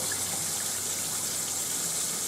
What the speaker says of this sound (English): here I am running water down the drain